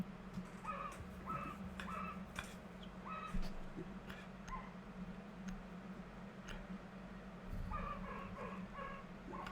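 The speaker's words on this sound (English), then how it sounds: "I'm sorry if you can hear my dog barking." A dog barks outside, heard faintly in the distance as repeated short barks in small clusters over a steady indoor hum and occasional clicks.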